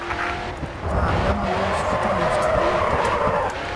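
A car drifts through a corner in the racing video game GRID 2, with loud continuous engine roar and tire skid noise. A voice speaks faintly underneath.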